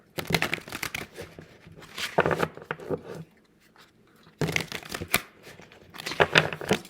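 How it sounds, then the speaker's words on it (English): Bursts of fast, crisp fluttering as a deck of cards is riffle shuffled several times, with short quiet pauses between passes. "I want to give these a good ruffle shuffle."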